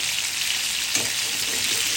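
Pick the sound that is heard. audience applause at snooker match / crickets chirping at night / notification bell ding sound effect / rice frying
rice frying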